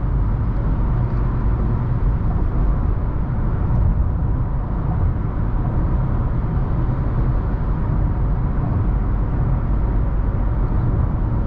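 Steady engine and road roar from inside a 2018 Acura TLX accelerating to pass on a highway, a constant broadband drone with no talking.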